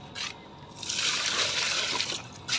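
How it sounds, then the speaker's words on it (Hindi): Water is poured from a bucket onto wilting garden plants on a hot day, a steady splashing gush lasting over a second, close and fairly loud, with a few drips around it. "एक एक गिलास से कुछ नहीं होगा, ये बाल्टी से ही डालना पड़ेगा।"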